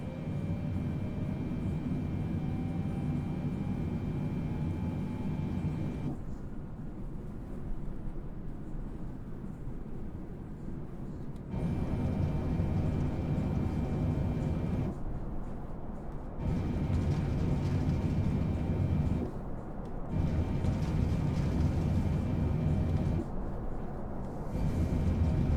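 A Boeing 777F cargo airliner's engines on a takeoff roll along a runway produce a steady, loud roar with a high whine, broken into sections where the sound shifts and dips before surging back.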